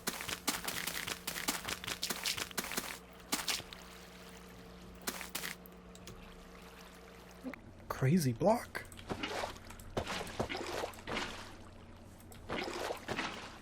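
Splashy swimming movement through water in Minecraft, a soft watery churn and swish that comes and goes in bursts beneath steady talking, with one louder sloshing swirl midway.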